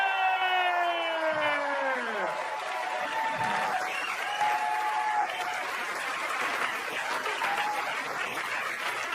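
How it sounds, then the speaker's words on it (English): A comedy-club audience at an Amy Schumer stand-up show breaks into loud, sustained applause and cheering that fills the room for the full stretch, with a falling whistle-like tone at the start. "Put your hands together for Amy Schumer!"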